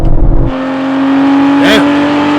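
An Aston Martin engine revving hard in a drag race, a sustained loud high-pitched engine tone with a rising whine as it pulls through the gears, following a brief burst of voices at the start.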